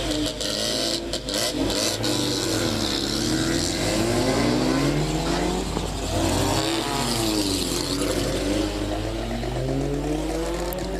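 Stock cars racing round a regional oval circuit, engines droning and rising and falling in pitch as they pass, loud and continuous for the whole stretch with no talk over it.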